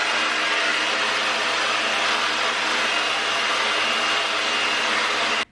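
A hair dryer fitted with a diffuser blows continuously while drying low-porosity hair, a loud, steady broadband whoosh up close that cuts off abruptly at the end.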